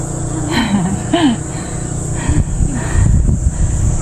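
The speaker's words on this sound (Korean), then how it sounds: "여기 매미 있어요 매미" A cicada drones at the summit of Chilgapsan mountain in Cheongyang on a summer hike. The thin, high buzz holds steady throughout while people talk close by.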